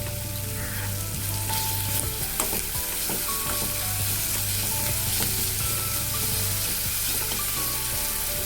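Ground green chili paste sautés in a pan with a loud, dense sizzle and crackle, steady throughout, with stirring clatter and a low hum underneath and no speech.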